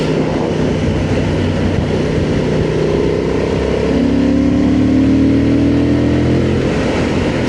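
A Honda 750 Transalp motorcycle engine pulls hard from about 70 km/h, its steady drone rising in pitch as it accelerates, loud and close, with wind rush and no talk.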